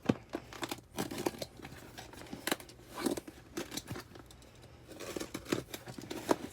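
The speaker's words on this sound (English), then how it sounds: "Let's get out the handy blade. Don't cut too deep." A utility blade slitting open a sealed package, close crinkly scraping and tearing sounds with irregular bursts of plastic and cardboard rustle, no talking.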